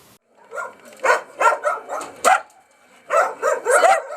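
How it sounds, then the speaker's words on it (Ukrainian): Many dogs from a home shelter of about seventy dogs bark and yip in a rapid string of loud, close barks, with a short pause in the middle. "Запахи і головне безкінечний скульош, ну гавкіт, шум."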